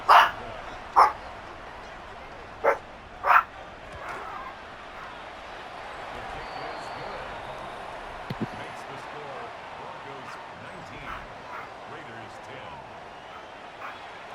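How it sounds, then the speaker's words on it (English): A dog barks at a mail carrier arriving, a few sharp, loud barks in quick succession at the start, then only faint room noise with a few small knocks, heard while a game plays. "I don't know if you can hear the barking."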